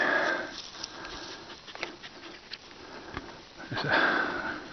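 Quick nasal sniffing bursts from a dog close by, with soft panting breaths in between and a faint outdoor background.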